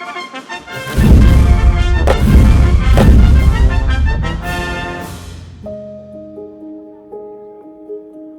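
A cannon fires a blank during a historic fort demonstration, giving a loud booming report followed by a series of resonant echoes, with a clear tonal ring fading out near the end.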